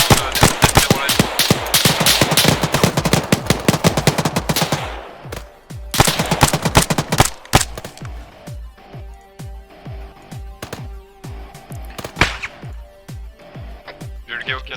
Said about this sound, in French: J'ai des tirs multiples.